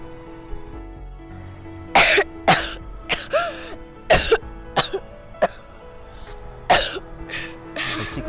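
A young girl coughs in a series of sharp, loud bursts, some doubled, spaced irregularly across the stretch against a quiet indoor background.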